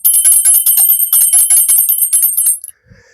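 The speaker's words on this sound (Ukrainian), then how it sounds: "Дзвони Єрусалиму починають наше таке маленьке зібрання." A cluster of bright, high metallic bells, called the bells of Jerusalem, rings loud and close in a fast continuous jangle for over two seconds before stopping abruptly, followed by brief quiet.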